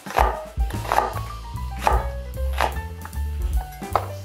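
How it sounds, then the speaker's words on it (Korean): Half an onion sliced thickly with a knife on a cutting board: about ten firm, evenly spaced knife chops close by, each a sharp thud, with no one speaking. "양파 반 개 도톰하게 썰어주세요."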